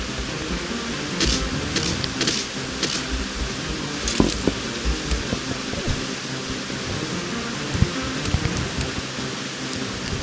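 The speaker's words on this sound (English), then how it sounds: "I just realized how loud the sound of the waterfall is" A loud waterfall in a survival video game rushes in a steady, broadband hiss like heavy rain, continuous and close with small clicks on top.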